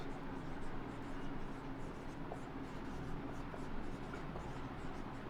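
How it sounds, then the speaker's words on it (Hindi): A pen scratches steadily across a surface during a lesson on vaccination gaps, faint and continuous under a low background hum. "देखो लिख रहा हूं मैं"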